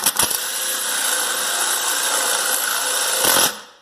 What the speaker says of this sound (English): So you just want to put your drill bit on there, on that mark you made, and go slow.